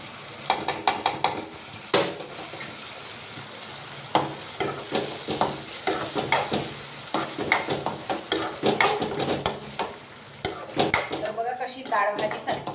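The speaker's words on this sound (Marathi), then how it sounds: "तर आता याच्यामध्ये छान वरण सोडूया." Cooked toor dal is poured into a simmering ridge gourd curry, followed by repeated close clinks and scrapes of a spoon stirring the pot over a low bubbling hiss.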